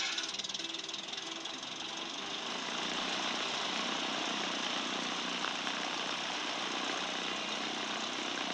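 An airplane propeller engine in the video game Peterson's Inventions drones steadily and loudly throughout, with a constant buzzing roar and no pauses or voices.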